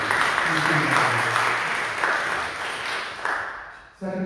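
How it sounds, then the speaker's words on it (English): A church congregation applauds during a Sunday Eucharist, a dense wash of clapping with voices murmuring underneath, easing off gradually before a voice cuts in at the end. "he deserves a round of applause"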